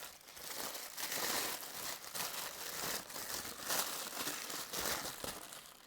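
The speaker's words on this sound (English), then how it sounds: "Let's take him out of the tissue paper." Tissue paper crinkles and crumples continuously and close up as a Star Wars Black Series Cad Bane action figure is unwrapped, with rustling bursts rising and falling throughout and no talking.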